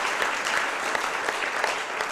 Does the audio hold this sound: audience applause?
yes